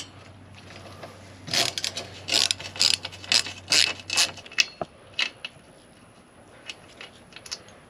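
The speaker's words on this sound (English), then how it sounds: "remove that, and I'm just going to reinstall this bolt" Hand ratchet working a bolt on a Can-Am Defender door, a close run of sharp clicking bursts in an uneven rhythm that thins into a few scattered clicks, with no talk.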